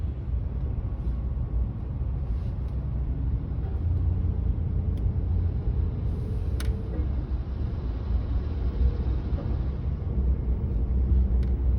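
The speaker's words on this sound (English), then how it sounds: "All that traffic behind me and the traffic in front of me." Congested highway traffic rolls past outside a moving car near a closed right lane, a steady muffled road rumble heard from the cabin with occasional faint higher whooshes, no talk.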